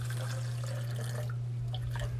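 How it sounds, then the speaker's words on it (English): Warm water poured into a graduated cylinder gives faint, brief trickling and dripping over a steady low electrical hum. "So I'm just going to go ahead and pour some warm water into our graduated cylinder."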